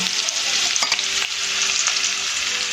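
Chopped onion hisses and crackles as it fries in a pan for a Gujarati parvar and potato curry, with a loud steady sizzle broken by a few sharp stirring scrapes, no voices.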